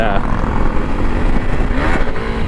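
Honda CRF300L Rally dual-sport motorcycle with Pirelli Scorpion front and MT43 trials rear tire, engine pulling hard in fourth gear, a steady loud broadband roar held throughout with wind noise, heard close from the rider's position.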